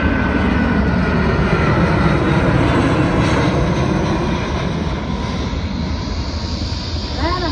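Military jet aircraft at the 2024 Warbirds Over Wanaka airshow, a loud continuous roaring rumble from engines passing nearby that holds steady for the full length, with no clear speech over it.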